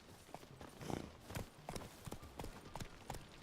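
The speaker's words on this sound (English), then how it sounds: "Run, Roach." A horse gallops in The Witcher video game, its hooves clip-clopping in a steady, quick rhythm at moderate volume and fairly close.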